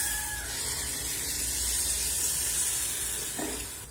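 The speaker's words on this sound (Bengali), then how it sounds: "এখন জল ঢেলে দেবো" Water poured into a hot pan while cooking khichuri, raising a loud, steady hissing sizzle that holds for several seconds and then starts to ease toward the end.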